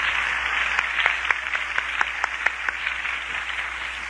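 A church congregation gives steady, moderately loud applause with a few sharper individual claps standing out, sustained throughout without speech.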